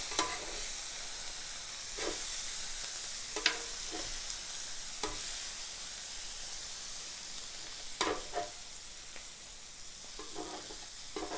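Philly cheesesteak meat frying on a griddle gives a steady sizzle, broken by several short scraping and scooping strokes of a spatula against the hot metal surface, with no talking.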